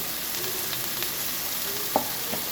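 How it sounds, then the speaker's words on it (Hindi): Shredded cabbage and bell pepper sauté in a hot pan with a steady, close sizzle, broken by a few brief stirring scrapes and clinks; no one speaks. "मैंने बंद गोभी और शिमला मिर्च इसके अंदर ऐड कर दिए। इसको ज़्यादा पकाया नहीं जाता है, बस सौते किया जाता है"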